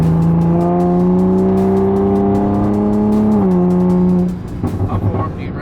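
A new Toyota Supra accelerates hard with a loud, close engine drone. Its pitch climbs steadily, shifts with a paddle gear change, then drops away as the throttle eases off.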